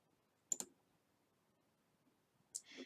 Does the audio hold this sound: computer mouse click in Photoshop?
yes